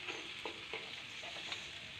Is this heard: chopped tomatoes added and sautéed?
yes